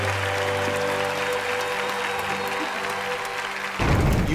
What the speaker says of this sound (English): please give Natasha a big round of applause